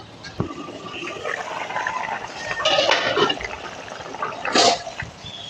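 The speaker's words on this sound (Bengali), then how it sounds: "ঝোল ফুটে উঠেছে, এবার মাছগুলোকে দিয়ে দেবো একে একে।" Fish curry gravy for koi fish with arum root, seasoned with salt, turmeric and a little sugar, simmering in a covered pot, giving a steady soft watery bubbling hiss with a few brief sputters and clinks close by.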